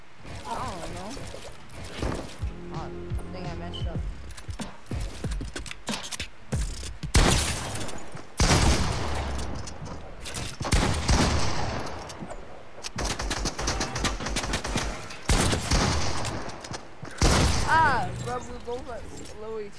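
Gunfire from the video game Fortnite, with bursts of rapid automatic shots and single cracks scattered across the stretch, mixed with voices talking throughout.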